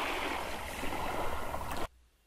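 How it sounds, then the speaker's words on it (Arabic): A recording of the sea played solo in an audio editor: steady broadband wash of water and surf, loud and continuous, cutting off abruptly near the end to near silence. "الآن نرجع صوت البحر سولو ونتعلم بعض الأمور"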